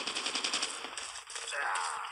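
Call of Duty Mobile assault-rifle gunfire, a fast burst of rapid shots at moderate loudness blending into game noise over about two seconds.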